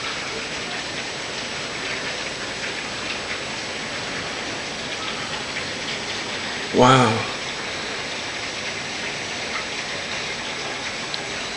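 Heavy rain falls steadily in Houston, Texas, a constant, even hiss of downpour that continues throughout. A person briefly exclaims partway through.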